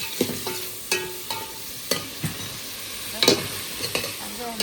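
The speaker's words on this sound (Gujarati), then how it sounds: "આવી રીતના બધું હલાવી નાખવાનું છે. હવે નાખી દીધા કંઈડા." Small crabs fry in masala in a pan while being stirred, with a steady sizzle broken by sharp scraping clatters of the spoon roughly every half second.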